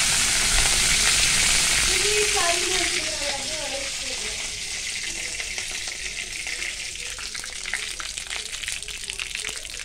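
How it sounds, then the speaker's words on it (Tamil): Cinnamon and fennel seeds sizzling in hot oil in a kadai, a loud close hiss and crackle that settles into a steady sizzle, with a few faint voice-like tones early on. "எண்ணெயை வடைசட்டியை வச்சு எண்ணெய் காய வச்சு பட்டையும் சோம்பும் போட்டுக்கலாம்."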